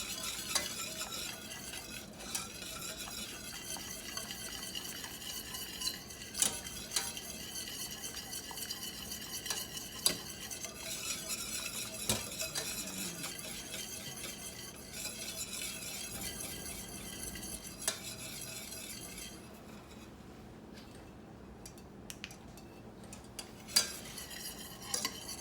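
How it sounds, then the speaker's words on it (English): Sauce mix whisked in a hot pan as it heats and thickens, a continuous close rhythmic scraping and clinking over a soft sizzle, quieter and sparser near the end, with no voices. "Now, as it gets hotter and hotter, it's going to thicken. Just keep whisking it."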